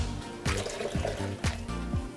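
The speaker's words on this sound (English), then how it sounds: "And a little bit of water." Water splashes and pours in short bursts into a blender, being added after almond milk while a protein shake is prepared; no one speaks.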